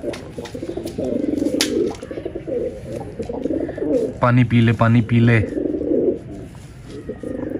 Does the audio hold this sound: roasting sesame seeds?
no